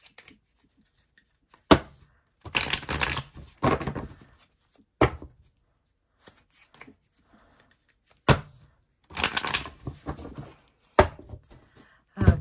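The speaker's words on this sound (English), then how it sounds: "I'm going to give you a couple last shuffles here" Tarot cards being shuffled by hand, several separate bursts of riffling and shuffling with quiet gaps between them, close and fairly soft.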